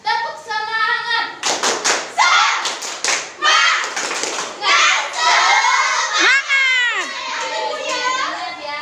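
Elementary school children perform the Indonesian "tepuk semangat" clapping chant in a classroom, sharp bursts of synchronized claps alternating with loud shouted chant words, a teacher's voice leading between the rhythmic clap groups.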